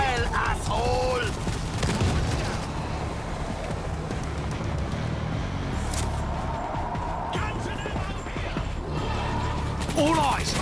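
Dense, sustained automatic gunfire in the World War Z video game fills the whole stretch at close range and high volume, with shouted voices breaking through on top.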